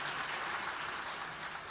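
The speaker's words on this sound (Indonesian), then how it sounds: "Kasih tepuk tangan yang meriah untuk Tuhan Yesus." During a church service, a congregation applauds for Jesus with dense, steady clapping that stays even and moderately loud throughout, with no voices standing out.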